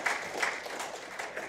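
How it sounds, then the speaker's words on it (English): Applause from an evening event audience in Palm Springs, a brief spatter of clapping from a moderately distant crowd, fairly soft and steady with slight surges. "have another round of applause for Mr."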